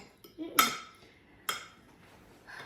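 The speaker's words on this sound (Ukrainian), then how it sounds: "цукор і дуже обережно розмішуємо" A spoon clinks against a bowl while cottage cheese, egg and sugar are gently stirred, two sharp metallic clinks a second apart, then soft scraping with a faint third tap.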